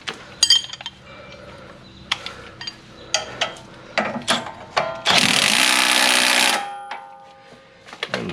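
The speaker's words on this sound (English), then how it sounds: "We'll tighten that sway bar bolt." A ratchet tightens a sway bar bolt on a 2016 Jeep Wrangler JK during a lift install, making bursts of quick close clicks with short pauses and one longer continuous mechanical whir.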